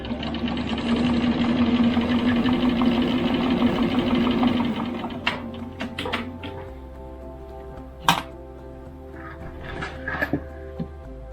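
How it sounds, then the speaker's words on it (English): A sewing machine stitching down quilt binding runs steadily and close for about five seconds, then stops, and a few scattered clunks and handling knocks follow. "But I am now finally stitching down the binding."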